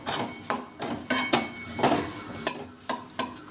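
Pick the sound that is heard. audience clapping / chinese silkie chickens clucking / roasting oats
roasting oats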